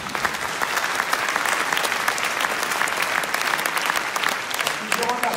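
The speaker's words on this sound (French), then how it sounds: "peut-être on pourrait les applaudir" An audience bursts into dense, continuous applause, many hands clapping steadily at a lively pace throughout, loud and close in a hall.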